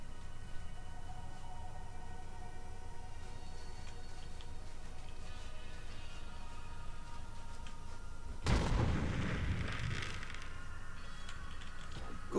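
Cannon fire in the video game Borderlands 3, one sudden loud booming blast after a stretch of steady game ambience, followed by a rumbling decay.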